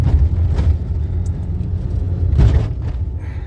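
A car driving along a rough, neglected road, its heavy low rumble steady and loud throughout, with a couple of bumpy thuds and rattles rising out of the drone, and no talking.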